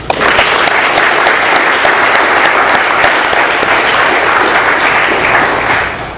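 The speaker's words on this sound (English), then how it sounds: "Let's have another round of applause for Julie" Steady, full applause from an AA meeting audience in Doylestown, PA, a dense wash of many hands clapping for about six seconds with a slight fade at the close.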